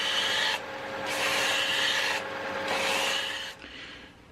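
A bandsaw rounds the edges of a hardwood salt and pepper box, making a rasping, abrasive cutting noise in three long passes with short, quieter gaps between them, close and fairly soft, with no talk.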